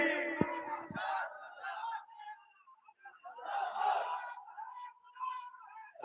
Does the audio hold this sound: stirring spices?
no